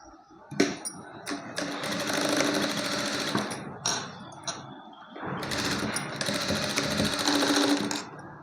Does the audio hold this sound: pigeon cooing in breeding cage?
no